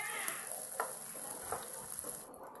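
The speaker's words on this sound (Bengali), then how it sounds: "এবার পেঁয়াজগুলো একটু ভাজা ভাজা করে নেব" Chopped onions frying in mustard oil hiss with a steady, close sizzle, with a few soft stirring scrapes breaking through the crackle.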